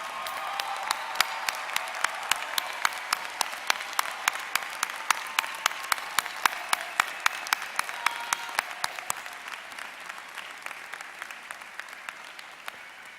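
Sustained applause from a commencement audience saluting new Bachelor of Arts graduates of a university college of education, with dense steady clapping and some sharp individual claps standing out near the microphone throughout.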